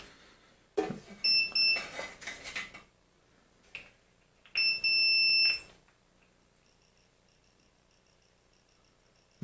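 A multimeter in continuity mode, probing across a capacitor while wiring a drill press, gives two separate bursts of high electronic beeping about three seconds apart, each lasting around a second and a half, with quiet handling clicks between them.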